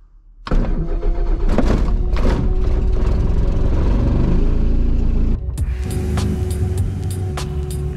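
A small aircraft engine starts up loudly after a brief pause, cranking into a steady roar that holds close and strong, then settles into a slightly lower, even running note.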